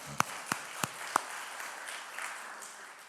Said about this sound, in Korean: 하나님께 모든 영광의 박수 올려드립니다.